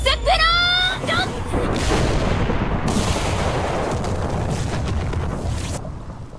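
Megumin's Explosion spell in an anime goes off as a huge, roaring blast: a rising magical whine at first, then a long rumbling detonation with crackling debris that rolls on for several seconds.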